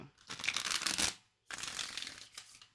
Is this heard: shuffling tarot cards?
yes